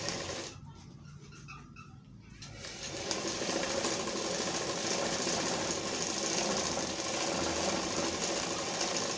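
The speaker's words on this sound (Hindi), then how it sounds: "इधर भी हम सिलाई मारेंगे ऊपर के हिस्सा में" A sewing machine stitching a kalidar jubba gives a steady, close mechanical whir. It pauses briefly near the start, then runs continuously and fairly quietly to the end.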